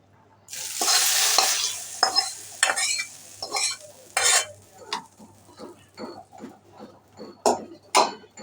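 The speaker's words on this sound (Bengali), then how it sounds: "দিয়ে দিলাম ডালের মধ্যে ফোড়নটা" Fried garlic tempering poured into cooked lentil dal with drumsticks: a loud burst of sizzling at first, then repeated scraping stirs and clinks of a spoon in the pot, up close.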